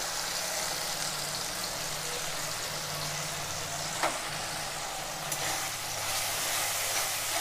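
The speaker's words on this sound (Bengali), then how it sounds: "মশলাটা দিয়ে আমি বেশিক্ষণ কষাবো না" Mustard, poppy seed, green chilli and garlic paste sizzling in a pan with melted tomatoes: a continuous, even frying hiss with one or two faint spatula clicks.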